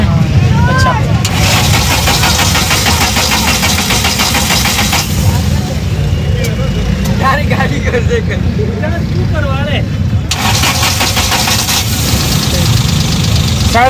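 A used Suzuki pickup at a market in Pakistan, its engine cranking and then idling with a steady, rough mid-pitched rumble, close up, while people talk over it throughout.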